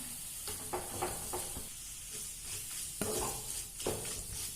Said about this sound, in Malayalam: ഇതെല്ലാം കൂടെ നല്ലവണ്ണം വഴറ്റി ഇതിൻ്റെ പച്ചമണം മാറുന്നത് വരെ നല്ലോണം വഴറ്റിയെടുക്കാം.